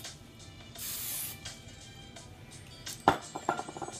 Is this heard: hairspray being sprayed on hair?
yes